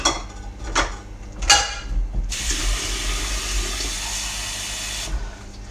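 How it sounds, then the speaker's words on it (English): Water pours steadily from a tap for about three seconds while homemade mac and cheese is being made. A few clanks of a pot or utensil come first, then a broad, even hiss that stops abruptly, with no talking. "I'm going to add a little bit more water"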